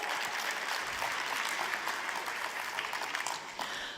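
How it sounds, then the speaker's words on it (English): Audience applause for a team at a business presentation, a steady wash of many hands clapping at moderate volume, continuous and even for several seconds with no talk over it. "Give them a big round of applause."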